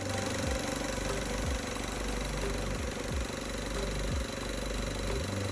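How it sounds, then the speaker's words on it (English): A Mazda MX-5 Miata (NC) engine with faulty wiring harnesses idles steadily with a low rumble, its rhythm stumbling roughly about once a second with dull knocks. "This is what the faulty wiring harnesses sounded like at idle."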